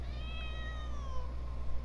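A cat gives one drawn-out meow that falls in pitch, heard close over a low steady background hum.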